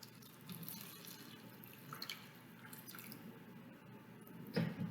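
Warm water poured into a container, a quiet trickle with faint drips and splashes, ending in a slightly louder splash.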